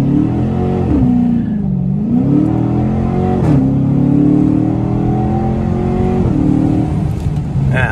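Video game race between a Mustang and a Challenger, with loud sustained engine drone rising and falling as the cars accelerate and shift, continuous throughout without speech.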